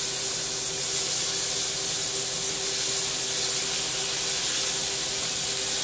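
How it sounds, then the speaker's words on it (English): Thin bacon frying in a pan, a steady loud hiss and sizzle that carries on without pause, close and alone. "See how nice and pretty that bacon's cooking up?"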